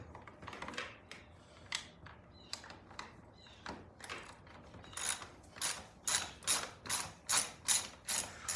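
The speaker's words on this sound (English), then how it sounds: "see how these carb bowls all come off here" Metal clicks and clanks from carburetor float bowls being unfastened and pulled off a Johnson 130 outboard motor, sparse at first, then a close, steady series of sharp rhythmic ratcheting bursts.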